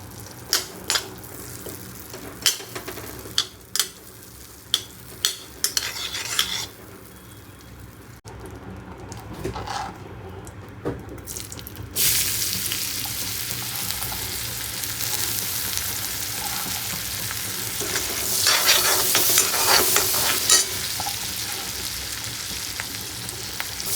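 Butter melts in a hot pan as the base for a white sauce pasta, first with a few clinks against the pan, then building into a steady, loud, close sizzle that continues without a break.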